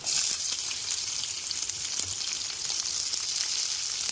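Chopped onions and green chillies fry in a pan for a potato masala curry, giving off a steady, bright sizzling hiss with faint crackles, close and continuous, with no voices.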